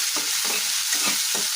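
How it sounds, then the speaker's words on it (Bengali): Chopped onion and green chili fry in a pan with oil, a loud, close, dense crackling sizzle with a few stirring scrapes, and no voices. "তো আমি এখন পেঁয়াজ মরিচটা কিছুক্ষণ ভাজা নেই"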